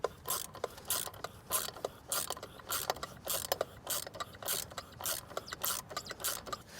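An ATV clutch pulley being tightened so its two discs spread apart and loosen the drive belt gives off a steady run of close, regular mechanical ratcheting clicks, alone with no talk.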